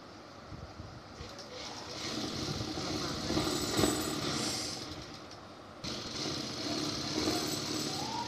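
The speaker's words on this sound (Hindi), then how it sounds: "ये वाला जॉइंट और ये वाला जॉइंट दोनों को ऐसे मिलाकर सिलाई लगाएंगे।" A sewing machine stitches a seam on a salwar with a steady, rapid mechanical chatter. The chatter swells and pauses briefly partway through, then resumes at a moderate, fairly close level.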